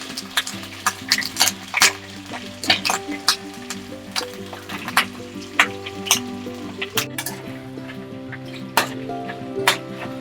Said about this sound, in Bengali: সর্ষের তেল গরম মোটামুটি হয়ে গেছে এই মাছের কাঁটাগুলোকে দিয়ে দেবো